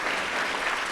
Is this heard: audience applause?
yes